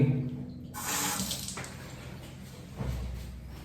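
Tap water runs into a sink bowl to rinse a razor after shaving, a soft close splashing and trickling that swells and eases, with no voices.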